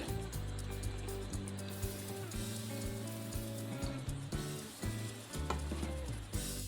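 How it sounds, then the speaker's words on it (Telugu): Soaked rice and urad dal are ground into smooth idli batter in a grinder, giving a continuous mechanical hum with a wet churning texture and small knocks and shifts. "ఇప్పుడు మెత్తగా పేస్ట్ చేసి చూపిస్తాను"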